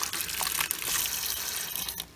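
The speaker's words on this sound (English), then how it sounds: "Let's put more water." Water pours steadily into mung bean sprouts with a hissing, splashing rush up close, then cuts off abruptly near the end.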